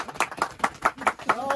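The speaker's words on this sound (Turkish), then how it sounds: "Alkışlıyoruz başkan." A small group from an ATV club claps in a quick, even rhythm for their president, the claps close and fairly sharp, with a voice rising over the final moments.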